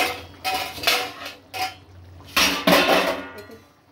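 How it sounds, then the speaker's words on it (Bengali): A cooking pan's lid lifted off during an egg curry, a few close metallic clinks and scrapes of the lid against the pan, spaced out with short quiet gaps between them. "এইবার আমার একদম পুরো ঢাকাটা খুলে নিলাম"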